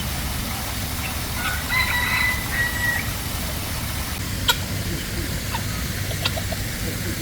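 Bantam chickens clucking and calling at a poultry enclosure in Kuala Lumpur, with a brief tonal crow-like call early on, over steady low outdoor rumble and a few faint clicks.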